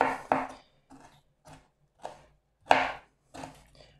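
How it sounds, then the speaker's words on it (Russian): A knife chops broccoli on a cutting board: about seven crisp, close strikes at an uneven, unhurried pace, with quiet gaps between. "И мелко нарезаю брокколи."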